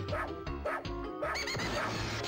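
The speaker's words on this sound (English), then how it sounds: "I hear a dog crying into the box." A cartoon dog in the 102 Dalmatians video game whimpers and yips in several short cries, close and clear, with game sounds behind.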